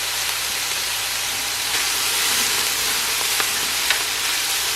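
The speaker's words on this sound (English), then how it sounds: "you want to cook this down until the onions have caramelized a little bit and the peppers have like those brown edges" Onions and peppers sizzling as they cook down in a pan, a continuous close, broadband frying hiss with occasional small pops and crackles.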